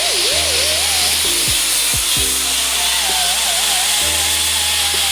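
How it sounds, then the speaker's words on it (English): A power tool fitted with a 60 grit abrasive stripping stickers off the body of a 1986 Mazda RX-7 FC, grinding steadily and loudly from start to finish with a few brief dips in pitch. "We're gonna use one of these to get the stickers off. It's got a 60 grit."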